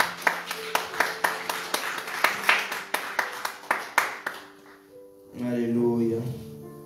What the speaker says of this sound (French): Alléluia, acclame le Seigneur Jésus-Christ.